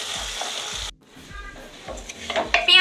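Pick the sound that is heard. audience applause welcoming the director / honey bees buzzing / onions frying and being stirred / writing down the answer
onions frying and being stirred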